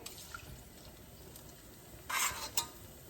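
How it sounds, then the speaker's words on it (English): Spoonfuls of Portuguese pumpkin dough frying in hot oil: a quiet, low bubbling that swells into a brief crackling sizzle as fresh dough drops in, then a second short burst, with no voices. "I'm gonna continue placing the dough into the oil so they can fry"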